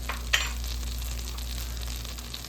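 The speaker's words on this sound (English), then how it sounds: "we're going to sweat that garlic with this butter on medium heat for about 3-4 minutes" Garlic sweats in butter in a pan over medium heat, giving a steady soft sizzle with a faint low hum underneath and one or two small ticks, and no voices.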